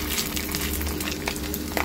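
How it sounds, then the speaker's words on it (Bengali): Fish roe frying in hot oil after fried fish, a dense steady sizzle with scattered sharp pops and crackles throughout, close and fairly loud. "আর মাছের ডিম যা ফাটে না পটপট করে, আউচ, অলরেডি ফাটতে আরম্ভ করে দিয়েছে"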